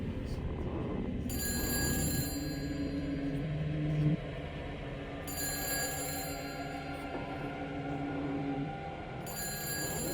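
A phone rings with repeated electronic bursts in Shadow of the Damned, Hector calling, sounding over a low rumbling game soundtrack with some talk.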